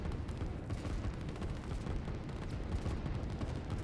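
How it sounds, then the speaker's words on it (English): Artillery in the RTS game Line War, firing amid a dense, continuous rumble of battle noise with overlapping booms and crackles and no talk. "this 1 artillery piece pops at the perfect time."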